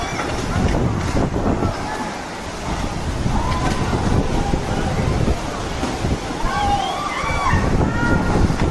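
Loud rushing, sloshing floodwater surging continuously through a street among cars during the October 2024 Valencia flood in Benetússer, with wind noise and shouting voices in the background.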